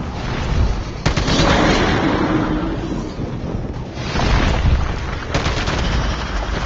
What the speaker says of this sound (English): I just shot him with a rocket launcher